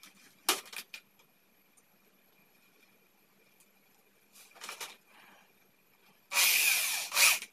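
Short bursts of a power drill driving screws into pieces of old-barked serut bonsai stem, a few brief whirs early and mid-way, then a louder sustained run near the end in a quiet setting.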